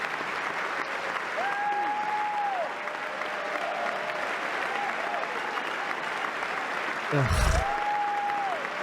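Members of Congress applaud a speech in the chamber, a dense, steady roar of clapping throughout, while a nearby voice talks and groans over it.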